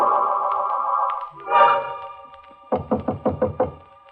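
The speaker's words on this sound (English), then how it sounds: "He knocks on my door." A rapid run of six sharp knocks on a door in an Inner Sanctum radio drama, coming just after a sustained tone and a brief swell, the knocks close, crisp and evenly spaced.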